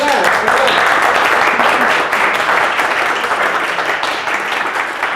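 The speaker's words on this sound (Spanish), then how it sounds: "No un aplauso, sino muchos." Audience applause follows a mathematics lecture, a thick, loud wash of clapping that holds steady and then eases off slightly toward the end.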